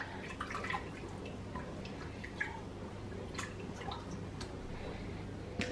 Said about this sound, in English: you're dripping water everywhere now